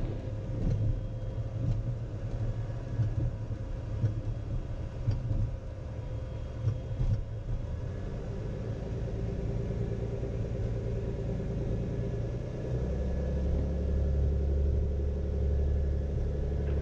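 Cirrus light aircraft taxiing after landing at Leadville, its engine droning in a steady low rumble heard from inside the cabin, with a deeper throb building toward the end.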